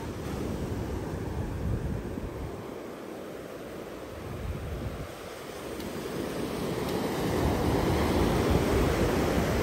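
Sea surf breaking and washing along a beach in Itajaí, Santa Catarina, as a continuous rushing roar that swells and ebbs, mixed with wind buffeting the microphone and no talking.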